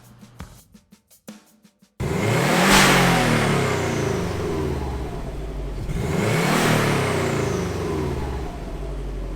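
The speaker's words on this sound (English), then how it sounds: "So first up will be the stock Subaru exhaust with a stock muffler." A Subaru WRX's stock exhaust with stock muffler revs hard twice, the engine climbing and falling in pitch, loud and close, after a few short sputters at the start.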